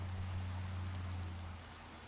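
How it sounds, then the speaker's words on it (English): Rain in the video game Haven Lore, a soft, even hiss of falling rain over a low steady hum, faint and continuous, with no speech. "it's raining right now"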